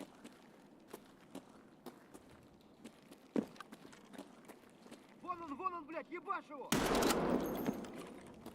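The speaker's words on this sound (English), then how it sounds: "Gun's quite loud, isn't it?" Gunfire in the shooter game Escape from Tarkov: sharp, evenly spaced shots crack through quiet ambience, then a voice speaks and a loud, dense burst of fire erupts near the end.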